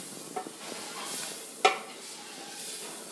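Hot water is poured into spiced oil in a pot of beans, giving a soft sizzle and hiss with a few stirring clinks and one sharp louder splash, fairly quiet overall.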